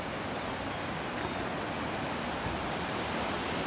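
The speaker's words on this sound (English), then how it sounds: "Down here is a flowing stream of water." Water rushes steadily in a stream below a mountain waterfall in Kullu District, a constant broad hiss and roar, close and unbroken with no voices.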